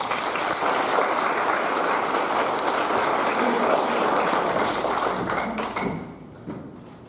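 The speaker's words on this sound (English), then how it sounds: "Let's give Professor Lin a round of applause." Loud, dense audience applause for a professor at a qigong health talk, steady for about six seconds before thinning out and fading near the end.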